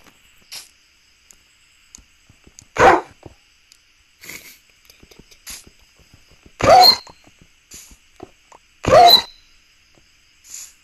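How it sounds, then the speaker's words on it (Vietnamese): Three loud, spaced barks from a dog in the online game Blockman Go stand out over a near-silent background scattered with soft clicks and faint game sounds. "Tốt nhất đừng chọc chó"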